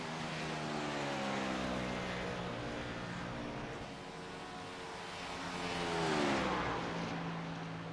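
Race car engine in the iRacing sim, NASCAR Xfinity Series practice at Charlotte, droning steadily down the front stretch with layered harmonic whine, swelling slightly louder near the end, no talk.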